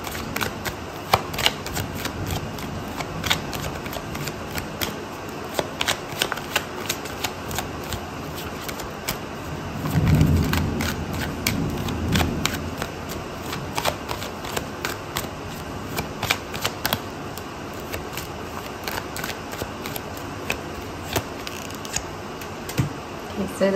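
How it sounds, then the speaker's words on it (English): Tarot cards are shuffled and drawn in a quick run of soft papery flicks and snaps, steady throughout, close and fairly quiet with a brief louder rustle midway. "Okay, so I'm going to pull out another card for you"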